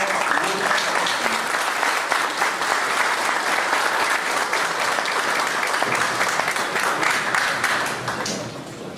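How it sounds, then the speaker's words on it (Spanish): Sustained, dense applause from a conference audience in a hall at a criminalistics lecture, loud and steady throughout and tapering slightly at the very end. "recibimos con un fuerte aplauso"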